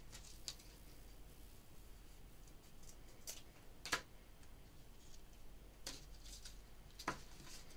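Trim being cut to length for pompom sandals with scissors, giving a few soft, sparse snips and ticks in a very quiet room.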